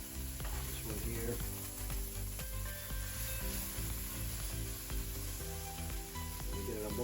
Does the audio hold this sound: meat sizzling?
yes